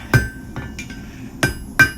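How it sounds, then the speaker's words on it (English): A hammer strikes steel on an anvil while a J hook is forged: four or five sharp metallic clinks in quick irregular succession, close and bright, with faint ringing between blows. "hang about the width of the face of your hammer over the anvil and strike down upon that as well"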